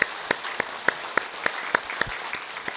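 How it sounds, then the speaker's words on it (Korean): Church members applaud to welcome a congregant during a Sunday worship service: sparse, evenly spaced claps from a small group, fairly faint in a quiet hall, with no talking. "우리 큰 박수로 환영하겠습니다"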